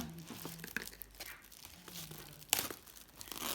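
Cardboard and plastic packaging of a rechargeable rotating toothbrush box is torn open up close, with short ripping bursts and crinkling, one sharp tear standing out midway.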